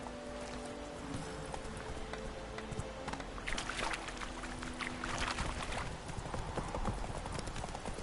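Horse hooves gallop in The Witcher 3, a steady, rhythmic clip-clop that carries on throughout over faint background ambience.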